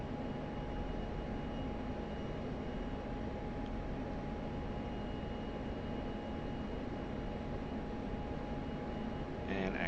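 Steady jet engine drone from an aircraft cruising on autopilot in the DCS World flight simulator, a constant broadband roar with a faint tonal hum, unchanging and continuous throughout.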